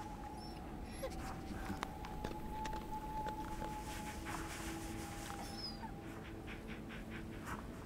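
Dogs of a sled team in the video game Kona 2 Brume whimper and whine faintly, with thin high cries scattered over a steady low ambient rumble and no voices.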